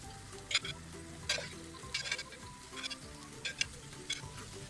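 Pressure-cooked beef goes into a pan for Thalassery beef dum biryani and is stirred through, with a steady sizzle broken by repeated close scraping and clinking strokes at an irregular pace.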